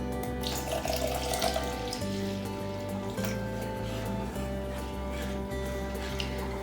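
Warm water runs from a kitchen tap for making sourdough bread dough, a steady splashing stream, close and moderately loud, that continues throughout with no talking.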